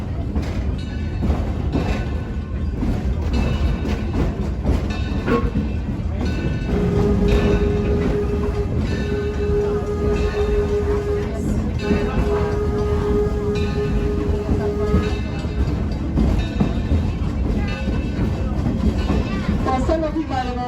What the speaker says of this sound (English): let's listen to the North American signal for Here Comes the Train